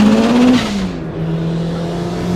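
A turbocharged 650 hp Eagle Talon fitted with a large old Garrett cast-wheel turbo accelerates hard. Its loud, close engine note climbs, drops briefly partway through, then holds a steady roar.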